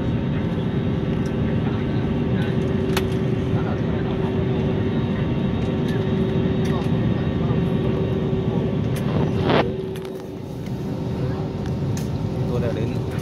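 Steady aircraft rumble at Tan Son Nhat airport in Ho Chi Minh City, a broad continuous engine drone with a sustained tone, briefly dipping partway through before resuming, with some voices in the background.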